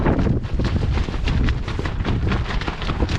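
Strong wind buffeting a microphone outdoors at a bicycle tent camp with a tarp and bivvy set up, a steady roaring rumble with gusty surges throughout, loud and close, no talk.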